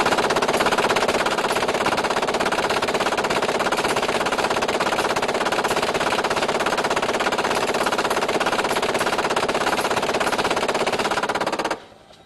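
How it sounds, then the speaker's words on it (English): An M240 machine gun fires one long continuous burst of about 130 rounds at a target range. The loud, rapid, steady rattle lasts roughly twelve seconds before stopping abruptly. "The gunner will fire 10 seconds or 130 rounds."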